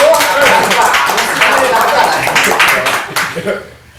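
Several people in a podcast studio clap their hands, a quick close burst of claps with laughter and voices mixed in, tapering off toward the end.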